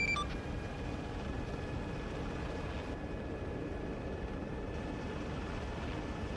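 A helicopter in Arma 3 lifts off with a dense, continuous rotor and turbine roar that stays loud and steady throughout.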